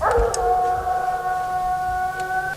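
A treeing walker hound bays in long, drawn-out howling tones, loud and close, holding a steady pitch for a couple of seconds with no talking.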